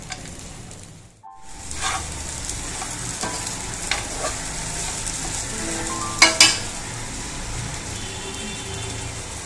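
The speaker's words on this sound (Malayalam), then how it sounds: "ഇത് ചേർത്തിട്ട് ഒരു മിനിറ്റും കൂടെ ഇളക്കിയാൽ മതി." A spoon stirring sabudana khichdi with potatoes in a pan, giving a soft continuous sizzle with scattered scraping clinks and a couple of sharper knocks, close by and moderately quiet, with no talk.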